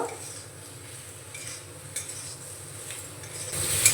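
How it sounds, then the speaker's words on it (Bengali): Vegetables tossed with ground spices in a pan over a medium flame, soft repeated scraping and clinks of a spatula against the metal over a faint sizzle, steady and close with no talking, ending in a brighter clatter. "মিডিয়ামে রেখে আমি আরও 2 মিনিট মতো এইভাবে নাড়াচাড়া করে নেব"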